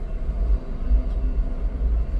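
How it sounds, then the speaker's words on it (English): A deep, continuous rumble and rolling roar of a passing train, steady throughout with no voices. "Soon as they let up, another train come."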